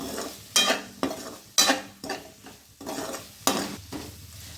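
Slit green chillies hit a hot pan of mussels and are stirred, giving repeated loud sizzling bursts with scraping strokes about once per second, close and without talk.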